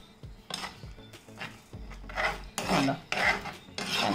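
A spoon stirs thick kalan curry in a pan after fenugreek powder is added, giving repeated close scraping and rubbing strokes against the metal in uneven bursts.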